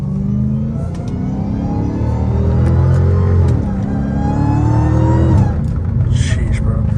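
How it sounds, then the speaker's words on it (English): A Dodge Hellcat Redeye with a cat-back exhaust rumbles loudly and revs through rising and falling pitch sweeps from inside the car on a street drive, while a voice briefly talks over the engine. "I did not realize how loud my car is."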